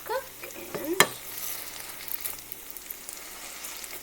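French toast slices cooking in a frying pan give a faint, steady sizzle, with a sharp clink of a utensil near the start and a few light knocks, no one speaking.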